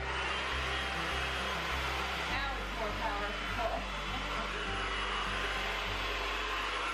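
An Amazon-bought Dyson-style hair dryer blows with a steady, loud whooshing hum and a low motor drone that continues throughout without pause.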